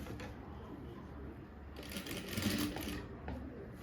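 A sewing machine stitching a blouse neckline runs in short bursts, a fast mechanical whirr that speeds up in the middle and fades out, close and fairly quiet.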